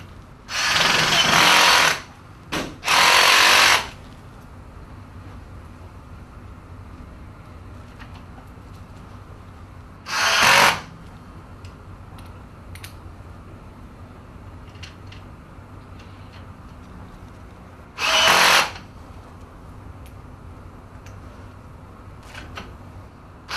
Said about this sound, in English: we're now going to put screws into all of the foot plates on the other parts